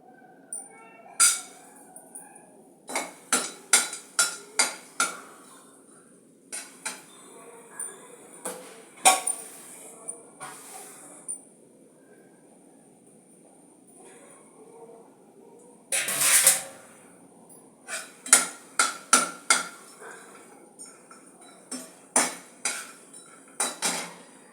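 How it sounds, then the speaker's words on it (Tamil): Asafoetida roasting in sesame oil in a pan comes through as bursts of rapid metallic scraping and clinking of a utensil against the pan, separated by quiet gaps, close and fairly loud. "அதில் முதல்ல வந்து பெருங்காயம் வறுத்து எடுத்துக்கலாம்."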